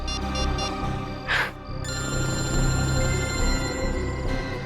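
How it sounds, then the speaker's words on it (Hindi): A telephone rings repeatedly in short electronic bursts over a busy background of music and noise. "फोन लगाता हूँ।"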